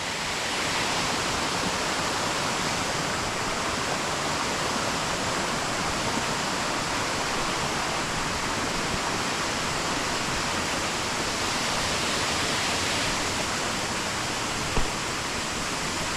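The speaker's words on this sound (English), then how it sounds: "I just wanted to show you where the waterfall starts from" The Stainforth waterfall pours over rocks in a steady, full, hissing roar that stays constant and close, with no voices.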